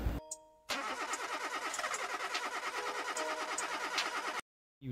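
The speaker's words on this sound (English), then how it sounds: "I hope this piece of crap car starts today." An old car's engine cranks with a rhythmic, whirring starter churn, close and fairly loud, pulsing steadily for several seconds before stopping suddenly into silence.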